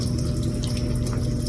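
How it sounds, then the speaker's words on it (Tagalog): A Samsung Eco Bubble fully automatic washing machine refills with water, giving a steady pumping rush with a low hum beneath. The sound is continuous and close, with no voices. "Tapos nagre-refill na ng tubig."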